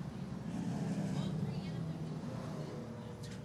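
Pro Stock race cars roar down the back straightaway at a championship night feature race, a steady loud engine drone with crowd noise and announcer talk over it.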